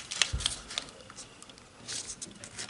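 Orange origami paper is creased and folded along diagonal lines for a 3D pumpkin, producing soft crinkles and a few sharp taps up close, with no voices.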